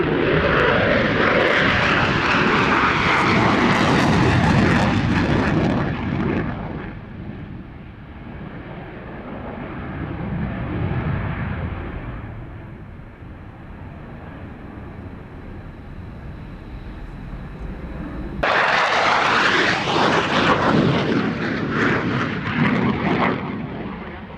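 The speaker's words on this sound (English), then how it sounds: "The Belgians certainly do know how to fly their F-16s" Belgian Air Force F-16 fighter jet flying a display at an air show, loud roaring engine passes swelling and fading, a quieter distant rumble, then an abrupt powerful blast of thrust.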